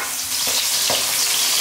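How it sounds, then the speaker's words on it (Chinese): Sliced shiitake mushrooms tipped into hot oil in a wok, giving a loud continuous sizzle with a couple of sharper splutters as they land. "锅里倒油，油熟后呢，香菇倒进去"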